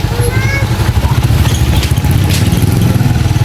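A motorcycle engine runs with a low, steady, chugging rumble and some rattling, close and loud, while people talk over it.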